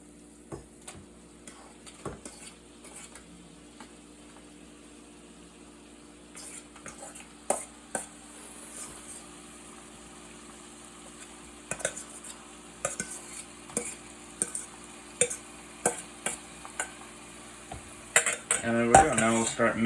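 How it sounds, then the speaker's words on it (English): Spinach sizzles quietly in a pan with butter, garlic and onions while a utensil scrapes and clicks against the pan in scattered strokes, growing busier toward the end. "when you start to see sizzling, that means that we're ready to put in the spinach here"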